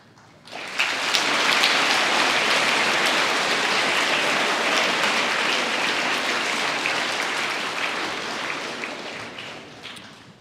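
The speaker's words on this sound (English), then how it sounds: "Hold your applause till the end." A school auditorium audience applauds at a presentation, a dense sustained wash of clapping that swells in quickly, holds steady for several seconds, then slowly thins out.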